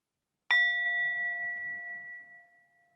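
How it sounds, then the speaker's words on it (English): A single meditation bell struck once, ringing with a clear bright tone that sustains and slowly fades into silence over a couple of seconds. "let's begin with a bell."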